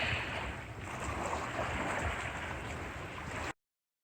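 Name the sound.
ferocious wind at Carolina Beach State Park river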